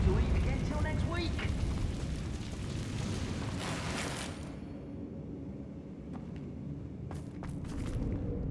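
A Confringo spell blast in Hogwarts Legacy in an underground mine, a loud rumbling explosion that swells then trails off into a quieter tail with a few sharp pops near the end.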